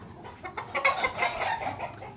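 A roughly six-month-old farm-bred chicken gives a short series of close, loud clucks, uneven in rhythm, with no voices over it.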